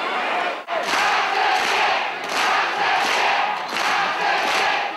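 A packed boxing arena crowd roars and cheers loudly and continuously at a professional bout, with the noise swelling in waves that sound big and close.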